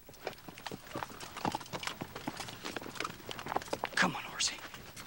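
Horse hooves clip-clopping at a walking pace, close and fairly quiet, with scattered irregular clops and a few soft vocal sounds in the background.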